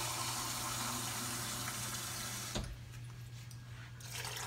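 Water pouring into a pot for cooking rice, a steady close-up splashing fill that cuts off sharply and gives way to quieter kitchen handling.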